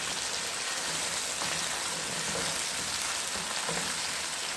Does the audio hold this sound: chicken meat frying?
yes